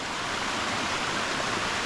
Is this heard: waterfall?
yes